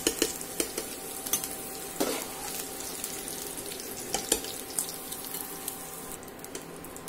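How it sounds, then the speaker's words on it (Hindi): Potatoes frying in ghee in a home kitchen pan while being turned with a utensil: a continuous soft sizzle broken by repeated sharp scraping clinks, fairly quiet and close, with no voices. "उनको पलट पलट के आप उसको थोड़ा घी में थोड़ा सा लाल होने दीजिए।"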